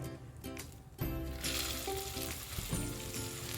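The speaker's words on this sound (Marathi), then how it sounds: "एक दोन मिनिट ही मटकी परतून घेऊया" Sprouted moth beans (matki) sauté in hot oil with turmeric and asafoetida for misal, a steady close sizzle and frying crackle with a stirring scrape partway through and no talk.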